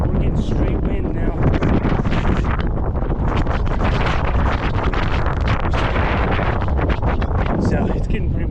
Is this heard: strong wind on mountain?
yes